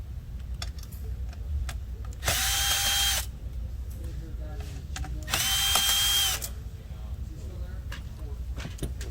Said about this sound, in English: Next, we're going to remove the 2 screws.